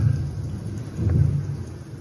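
Thunder with steady heavy rain on a battlefield scene, low rolling rumbles swelling twice over a continuous wash of rain, loud and close, with no talk.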